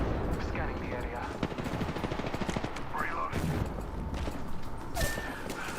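Automatic weapons fire in the battle-royale shooter Apex Legends, rapid bursts of gunshots rattling almost continuously, with game character callouts and player voices talking over the shooting.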